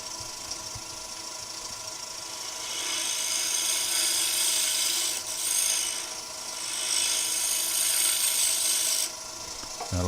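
A woodturning pull cut on a lathe makes a steady scraping, rasping hiss as the gouge cleans the spinning wood surface, swelling and dipping over several seconds.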